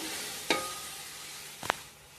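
Small-chopped tomatoes go into a frying pan for bagara rice, two sharp splashing hits over a steady low sizzle, close and fairly loud, with no talking.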